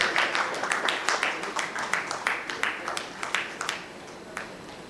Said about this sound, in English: a huge round of applause to our wonderful moderator and our eminent panelists